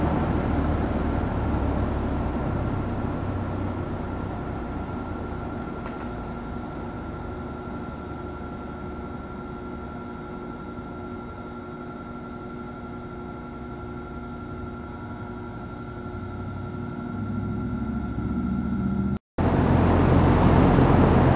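Two Sturtevant Size 8 Design 5 propeller fans run together on a variable frequency drive, giving a steady droning whir with a constant hum that fills the space. Near the end the sound cuts briefly, then returns louder.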